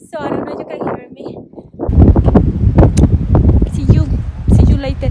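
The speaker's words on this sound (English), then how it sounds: "a little bit windy, so I don't know if you can hear me" Gusty wind in Rocky Mountain National Park buffets the microphone with low rumbling bursts, loud and steady through most of the clip, while a person talks underneath.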